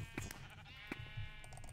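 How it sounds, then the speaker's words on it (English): Sheep bleating in a video game minigame, two or three short nasal bleats at a steady middle distance over a low background hum. "Come here, you sheep."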